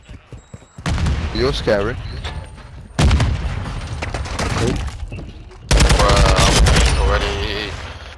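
Gunfire bursts in Call of Duty Modern Warfare II, three loud close volleys of rapid shots with short gaps between them, while a voice talks briefly over the shooting.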